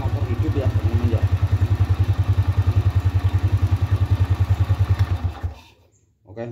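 A motorcycle engine, just restarted after its starter motor was repaired, idles with a loud, steady rapid thumping throb for about five seconds, then cuts out and falls nearly silent.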